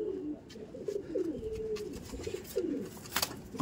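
Large Kaldom pigeons coo close by in a series of soft, low, rolling calls, several overlapping bursts with faint rustling and thumps in between.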